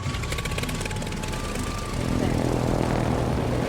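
Aircraft engines drone steadily in a World of Warships naval battle as torpedo planes fly overhead, a dense, continuous propeller roar that swells louder partway through.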